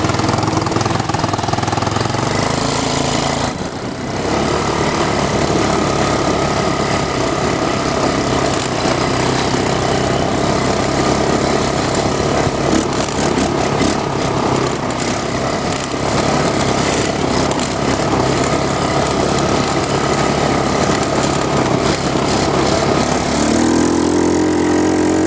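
A 150cc GY6 engine powers a mini monster truck along an off-road trail, droning loudly and steadily at part throttle for the whole stretch, with a brief dip in pitch early on and no talk over it.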